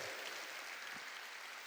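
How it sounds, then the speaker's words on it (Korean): A church congregation at a Korean worship service claps briefly: soft, dense, steady applause, faint and somewhat distant in the hall. "박수를 칠려면 치고 말려면 말고"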